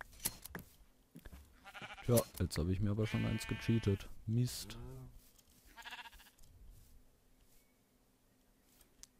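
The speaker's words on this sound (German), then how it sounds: "Hey, die ersten echten Schafe." Sheep in the Minecraft Feed The Beast modpack let out a few short bleats in the middle of the clip, heard under and between steady German commentary.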